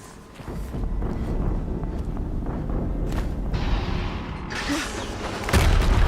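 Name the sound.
explosion in the video game Horizon Zero Dawn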